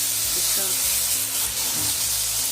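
Finely chopped boneless chicken sizzling in hot oil in a kadai, a loud, steady crackling hiss with faint stirring scrapes underneath.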